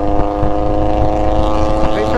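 A loud, steady car engine rumble on the Kancamagus Highway drones continuously, a deep throbbing hum with a constant pitch and no pauses.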